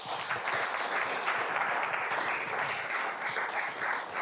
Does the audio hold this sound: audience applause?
yes